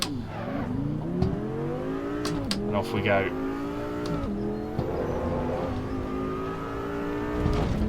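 A race car engine in the Assetto Corsa Evo racing game revs and climbs through the gears in rising pitch sweeps, with short gear-change dips. Someone talks over the engine noise.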